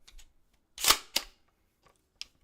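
An AR rifle being handled up close: a few sharp metallic clacks and clicks in quick succession, then a faint tick near the end.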